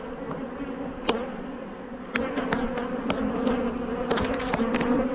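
Honey bees buzz steadily in a full, crowded hive, a dense close hum with sharper individual buzzes flaring over it.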